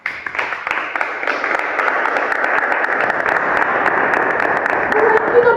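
A church congregation claps continuously in acclaim of the Lord, a close, steady wash of applause with a voice speaking over it throughout.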